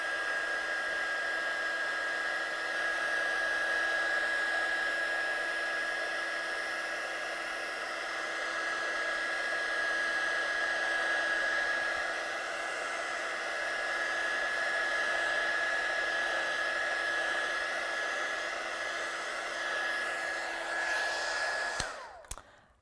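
A handheld hair dryer blows on a handmade card, giving a steady, close whirring hum that runs unbroken for about 22 seconds before cutting off abruptly at the end.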